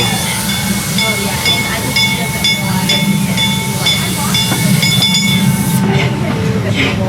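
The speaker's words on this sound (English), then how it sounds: "they might have 2 trains running" A train runs through Hersheypark amusement park with a steady low rumble, hiss and occasional metallic clinks, while people talk nearby.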